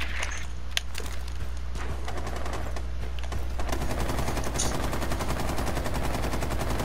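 Rapid automatic gunfire from a tactical shooter, fired through a barricade, crackling continuously at close range with steady repeated bursts and no talk over it.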